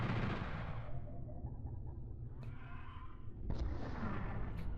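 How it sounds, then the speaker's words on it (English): A rocket launcher blast in Final Doom's Plutonia Experiment, a heavy booming explosion with a rumbling decay followed by another thudding blast, loud and close. "You can use the rocket launcher here. There we go, I think we took them all out in one blast there."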